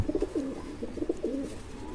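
A pigeon coos in a short series of soft, low, throaty notes, close by and alone for about two seconds.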